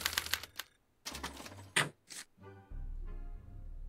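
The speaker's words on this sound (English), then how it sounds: "they're relayed to this special typewriter, which prints out a punch card that represents the subject's mind map" In the Back to the Future video game, a special typewriter prints out a punch card, with rapid mechanical clatters, thunks and a brief whirring pause, followed by a low steady hum, fairly quiet overall.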